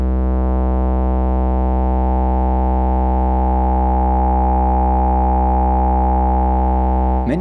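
Marienberg Multimode VCF analog filter in self-oscillation, a loud, steady, pure sine-like tone with strong harmonics held for several seconds, ending in a brief chirping pitch sweep.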